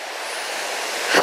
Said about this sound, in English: The rushing streams.